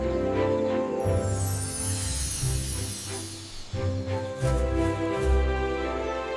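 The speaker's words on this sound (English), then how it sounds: "It's a howler monkey." A howler monkey gives deep, throaty roaring calls in two long, harsh bursts separated by a brief break, loud and close, with no talking.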